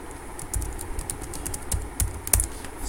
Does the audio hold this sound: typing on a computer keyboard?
yes